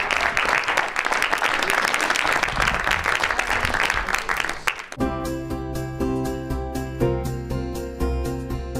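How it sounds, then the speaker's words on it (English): Audience applause greets new fellows at an academic theater society gathering, a dense steady wash of many hands for about five seconds before it gives way abruptly to sustained music with held tones. "a round of applause for all of our new fellows this year"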